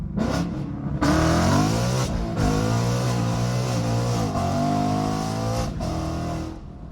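A 2019 Ford Mustang GT with a stage 2 clutch accelerates hard, its engine roaring loudly and climbing in pitch through several pulls, with short breaks between gears.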